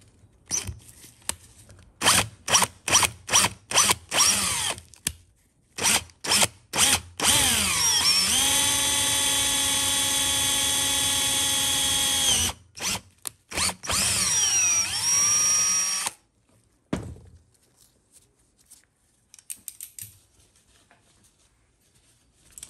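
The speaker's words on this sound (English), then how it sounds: "I have a 1/8 inch drill bit. So we're gonna go ahead and drill through that little gear there" A 1/8 inch bit drills through a small gear from a TH350 transmission governor. First come many short trigger bursts, then a long steady whine that ramps up, a few more bursts and a longer run, and finally quiet handling noises.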